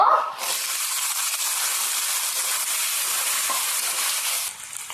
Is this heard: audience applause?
no